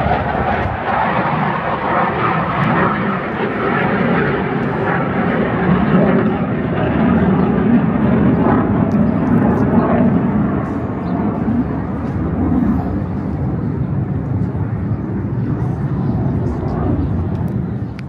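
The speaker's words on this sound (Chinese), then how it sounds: "飞机的声音超大。" A very loud airplane flies overhead in Israel during an outdoor Memorial Day gathering. Its deep jet roar fills the whole stretch without a break, steady and close, with faint voices underneath.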